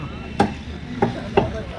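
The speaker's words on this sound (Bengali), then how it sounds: "দেখো চিকেন কাটছি" Three sharp chopping thuds on a board as chicken is cut at a shop, spaced irregularly and moderately close, with quiet background murmur between strikes.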